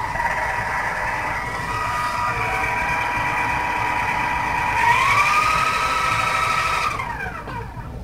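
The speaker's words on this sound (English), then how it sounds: "as you can hear the engine" A small model helicopter engine running indoors whines steadily at high pitch, its tone rising sharply partway through before winding down at the end.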